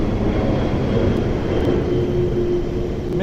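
An airplane passes overhead during an evening walk between Gotanda and Shinagawa in Tokyo. Its loud, steady, broadband roar fills the whole moment without any voices.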